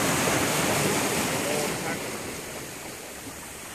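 Steady ocean surf washes at a Maui, Hawaii beach on a day of small waves, a continuous broad hiss and roar with wind buffeting the microphone.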